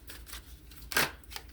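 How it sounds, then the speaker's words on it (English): Tarot cards shuffled by hand during a reading, a short soft riffle with light papery flicks and one brighter burst of card noise in the middle, close and quiet. "Let me shuffle."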